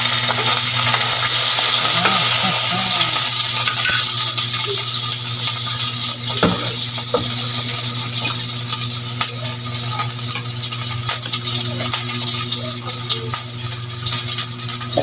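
Vegetables fry in a little oil in a pan for adobong gulay, a loud, steady sizzle that runs without a break, with occasional utensil clinks and stirring sounds.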